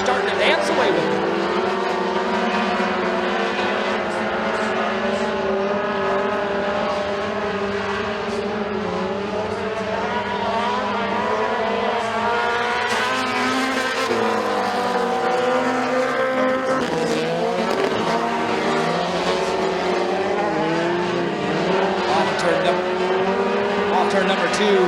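Mini Stock race cars roar around the McKean County Raceway oval during a heat race, engines droning and rising as the pack passes, under steady race commentary.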